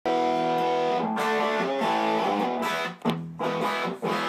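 An electric guitar through a tube amp plays sustained, heavily distorted chords with a thick, saturated amp tone, briefly cutting out between phrases.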